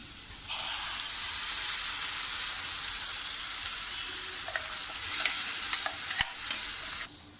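A loud, close sizzle bursts up as wet ground masala paste for Malvani prawn curry hits hot oil and keeps frying steadily, with a few sharp clicks of a spoon against the pan.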